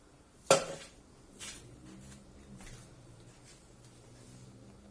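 A sharp metallic clatter of a cooking pot while mixing tarhana dough from flour and water, followed by a couple of softer knocks over a quiet room background.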